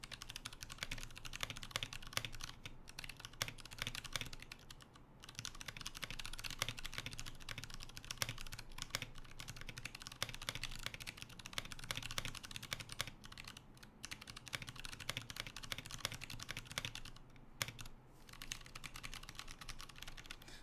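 Close, continuous typing on a Lunar AEK mechanical keyboard with ALPS switches, a dense stream of clacky keystrokes with a few short pauses and no talking.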